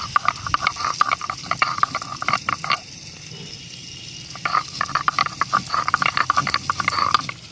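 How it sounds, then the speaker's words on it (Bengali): Chili paste being ground on a flat grinding stone makes rhythmic scraping, rubbing strokes that come close and repeat in bursts, with a short pause in the middle before the strokes resume. "মাছটা ভাজা হতে হতে আমি লঙ্কাটা বেটে নিচ্ছি"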